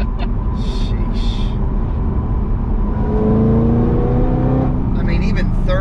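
A Chevrolet Corvette C6 ZR1 pulls hard in third gear, its engine note climbing steadily and growing louder as it accelerates, heard from inside the car with a little background noise.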